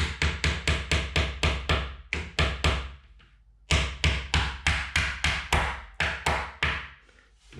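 A small nail hammered into an IKEA kitchen corner cabinet: a fast, even run of loud, close metallic taps, a short pause, then another steady burst of strikes.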